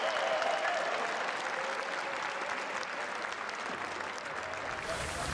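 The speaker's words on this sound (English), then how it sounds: "Give a round of applause for the local hometown heroes for Hearthstone Global Games" Sustained audience applause at a Hearthstone tournament, the 2017 HCT World Championship, fills the whole stretch as a dense, steady roar of clapping with a faint crowd murmur beneath it.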